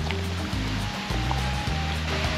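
Steady rushing water pours over a weir beside a water hazard area, a continuous broadband wash with low churning, heard alone with no talk.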